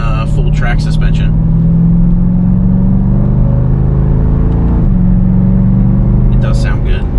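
A 2022 Dodge Durango SRT engine and exhaust pull hard under acceleration, a loud continuous low rumble with a rising droning tone from inside the cabin, with a brief shift partway and a voice near the start and end.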